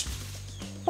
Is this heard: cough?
no